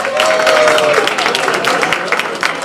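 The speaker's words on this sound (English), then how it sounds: "Now you can applaud everybody." Audience applause at a chamber music gala dinner, a dense, steady wash of many hands clapping close and loud for the whole stretch, with a brief whistle near the start.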